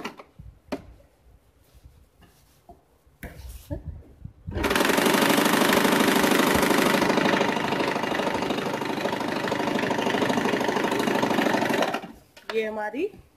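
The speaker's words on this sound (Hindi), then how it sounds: "हम एक सिलाई और दे देते हैं जिससे वो अच्छी लगेगी।" A sewing machine stitches a cloth bag made from leftover fabric, running as one loud, steady, fast whir for about eight seconds after a few quiet handling sounds, then stopping.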